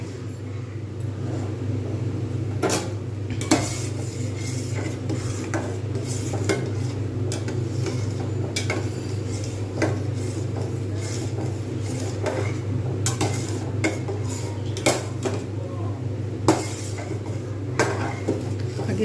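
A spoon stirs semolina payesh in a pot over low heat, with steady scraping and occasional metallic clinks against the pot over a constant low hum throughout.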